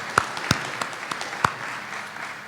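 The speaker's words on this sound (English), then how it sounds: "If we give him a round of applause." Scattered applause in a room at a Kentucky governor's bill-signing event, a handful of distinct close claps standing out over a thinner background patter that fades toward the end.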